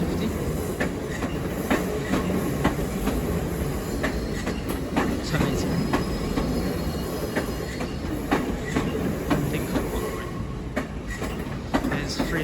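A Class 387 electric train moves through London Paddington station on the Great Western Main Line, with steady rolling rumble, regular clickety-clack from the wheels over rail joints, and faint wheel squeal, continuous and fairly close.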